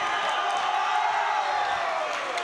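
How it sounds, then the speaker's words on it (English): Volleyball crowd at a high school boys' match in a gym, a steady dense roar of cheering and clapping with scattered whoops, loud and continuous throughout. "Now the crowd's coming alive."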